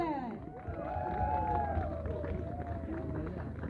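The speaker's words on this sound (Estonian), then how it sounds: "Ja nüüd teeme veel suurema aplausi korraldajale." Audience at an outdoor concert in Kallaste applauds steadily, a continuous wash of clapping with some cheering voices mixed in, moderately loud and sustained throughout.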